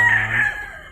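A young broodstag rooster, offspring of a pumpkin gamefowl hatch, crows once up close, loud and clear, in a short burst that tapers off.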